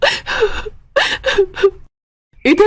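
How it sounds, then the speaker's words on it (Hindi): A man gasps and pants heavily, several ragged breaths in two bursts with a short silent pause before a final gasp, close and loud, in a Hindi story drama where he suddenly falls ill. "वो जोर जोर से हांफने लगता है।"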